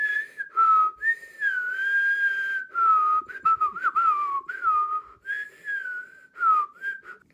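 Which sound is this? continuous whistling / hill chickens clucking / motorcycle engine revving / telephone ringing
continuous whistling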